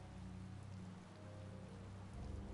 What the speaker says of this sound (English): It's raining after all!